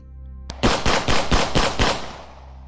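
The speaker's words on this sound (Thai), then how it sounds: "เสียงปืนดังสนั่นลั่นป่า" A rapid burst of about six loud revolver gunshots in quick succession in a forest, each sharp crack echoing and trailing off into a fading reverberation.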